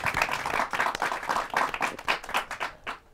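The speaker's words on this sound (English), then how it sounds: "Give them a round of applause one more time" Applause from a talk show studio audience for a couple of young guests, a few seconds of brisk, fairly close clapping that thins out and stops toward the end.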